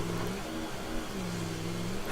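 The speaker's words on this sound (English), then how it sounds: "it's just a big truck coming through the middle of the river" A video game truck engine drones and revs at a steady mid pitch, close and continuous, with a rushing water wash behind it as it drives through a river, and no talking.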